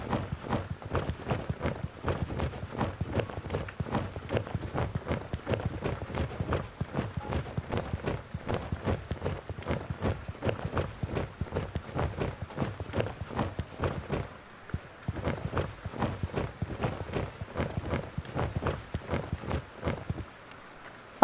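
Horses and ponies clop in a stable in the video game The Dwarves, a brisk continuous run of hoof strikes, steady and fairly close, pausing briefly before resuming.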